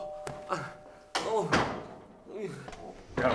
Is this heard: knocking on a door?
yes